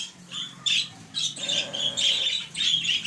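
Several budgerigars in a breeding room squawk and chatter in bursts, harsh raspy calls overlapping close by with no talking.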